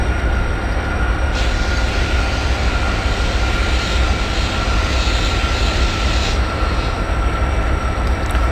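The 16335 Nagercoil Express runs over a river bridge with a loud, steady rumble and rhythmic rattle of wheels, heard from on board, and a brief shift in tone partway through.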